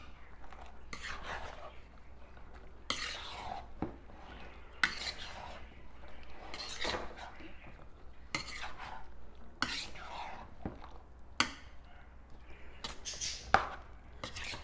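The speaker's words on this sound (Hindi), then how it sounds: "इसको हम अच्छी तरह इसको मिक्स करेंगे।" Chana chaat being stirred together with chopped tomatoes in a bowl, a spoon scraping and clinking against the sides in repeated close, crisp strokes with no talk.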